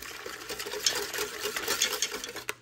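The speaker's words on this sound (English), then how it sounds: "we're gonna take a whisk and blend it" A whisk stirs bacon liquid mixed with Keto Chow beef soup base in a steady, fast rattling scrape, close and moderately quiet, continuing alone for the whole stretch before a final knock.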